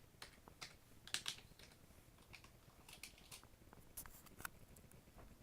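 Quiet, close keystrokes as a command is typed on a computer keyboard, an irregular run of soft clicks with small bursts and short pauses, with no talk.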